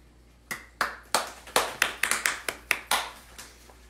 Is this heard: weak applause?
yes